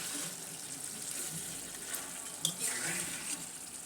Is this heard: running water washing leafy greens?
yes